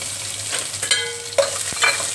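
Onions and green chilies frying with curry leaves, a steady sizzle broken by a few sharp metallic clinks and scrapes of a utensil against the pan, close and without voices.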